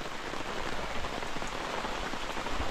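Steady rain falls on a surface, a dense, even patter of drops throughout with no pauses or voices.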